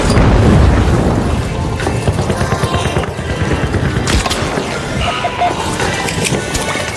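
A pyro grenade blast in a video game, with a loud, booming low rumble that opens heavily, then rolls on as a dense, crackling roar that stays strong throughout.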